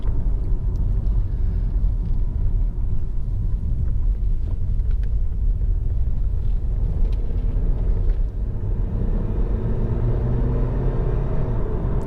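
A Honda Accord 2.4 i-VTEC EX four-door saloon cruising at the legal speed limit, heard from inside as a constant, smooth low rumble of engine and road noise that holds steady throughout, with no talking.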